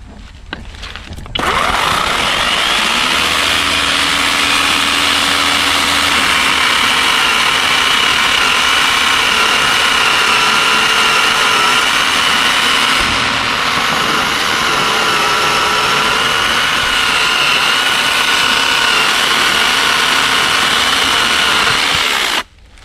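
A battery-operated chainsaw runs steadily for about twenty seconds, a close, loud, continuous motor whine with slight pitch shifts as it bites into wood, starting and stopping abruptly.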